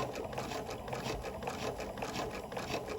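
A sewing machine stitches slowly along a gentle curve, giving a steady, close, mechanical whirring rhythm with soft repeated ticks and no voices.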